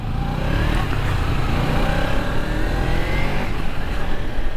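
A Kawasaki Ninja 300 motorcycle engine hums steadily in Kolkata city traffic, loud and close, with rising and falling revs and a constant road drone throughout.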